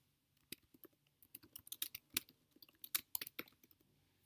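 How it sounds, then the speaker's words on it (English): Quiet, close typing on a computer keyboard, an uneven run of soft key taps that grows busier after a pause, with no voices. "Here we can type in our landing page title."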